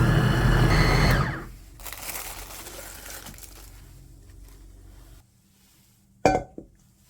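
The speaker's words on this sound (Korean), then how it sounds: "믹서기에 갈아 볼 건데요." A kitchen blender grinds ginger, onion, pear, minced garlic and water for white kimchi, roaring loudly for about a second before winding down to a low whir, then a sharp clink near the end.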